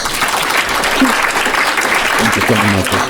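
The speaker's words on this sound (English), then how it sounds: "please give them a round of applause" Dense, continuous audience applause fills a hall at a youth loneliness event, with a speaking voice cutting through near the end.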